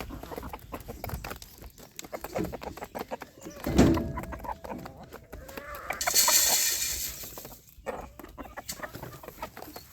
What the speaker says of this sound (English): She's still clucking, but she's not wanting to sit.